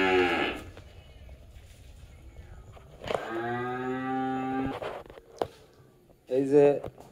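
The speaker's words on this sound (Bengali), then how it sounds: "এই দুইটা গরু খুবই ভালো মানের গরু" Cows on a farm give two moos: a long, loud, drawn-out low call, then a shorter one after a pause, with brief human voice sounds and rustling in between.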